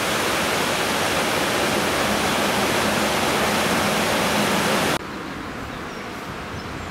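Steady, dense rush of water pouring over a weir on the River Ogmore, loud and continuous, dropping slightly in level near the end.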